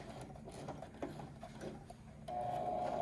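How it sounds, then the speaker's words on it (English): A sewing machine stitches fabric for a sheet mask with a quiet, rapid mechanical chatter that grows steadier and slightly louder toward the end, and no voices are heard. "So I'll start sewing"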